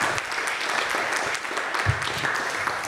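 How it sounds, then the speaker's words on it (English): A crowd at a Hawaii election candidate forum claps in steady, moderately loud applause that carries on for several seconds, with a few sharper claps near the end. "would you please give a big round of applause to Lauren Matsumoto and Alexander Ozawa."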